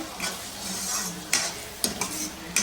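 Spoon stirring chili powder into fish curry in a pan, a continuous scraping and sizzling texture with a few sharper clinks of utensil against metal, close and moderately loud.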